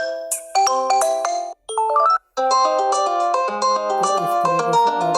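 A melodic ringtone from a Mi Y1 mobile phone plays loud and clear, a bright chiming tune with two brief pauses before a fuller, denser melody carries on to the end.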